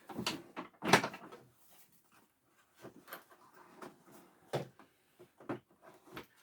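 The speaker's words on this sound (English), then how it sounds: "we can put the bag door back on now" A plastic bag door is fitted back onto a canary yellow Hoover Turbopower vacuum cleaner, giving a sharp snap followed by a run of lighter clicks and knocks at close range.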